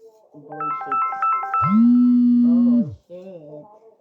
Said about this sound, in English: Somebody's calling me and I don't know that number.